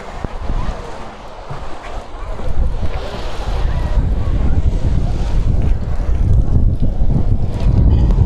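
Tramontana wind gusts hard across the microphone at L'Escala beach on the Costa Brava, a loud roaring buffet that swells after the first couple of seconds and stays heavy, with surf mixed underneath.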